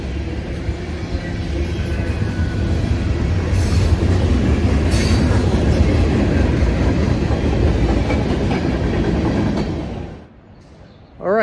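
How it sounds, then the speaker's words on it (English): A train rolls past inside the Marietta History Center in Georgia, a loud continuous rumble with rail clatter and brief wheel squeals, then cutting off abruptly near the end. "Still got the train going here."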